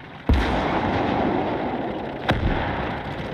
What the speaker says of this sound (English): Our 105mm howitzers probably won us this match though.